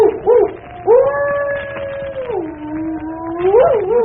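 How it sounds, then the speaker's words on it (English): A dog lets out a long, loud, drawn-out howl on a stormy night, sliding down in pitch and then rising again near the end, close and alone with no voices over it. "Listen to that dog."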